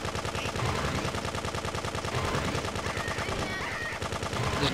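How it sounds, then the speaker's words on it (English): Rapid, unbroken automatic fire from Grand Theft Auto 2 sprays steadily for several seconds, a dense rattling stream of shots at constant loudness with no pauses. "And just keep throwing bullets everywhere, really."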